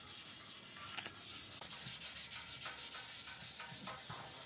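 Rhythmic hand sanding of a 1977 Camaro Z28 bumper, repeated scratchy back-and-forth strokes of sandpaper, close and steady, with no talking.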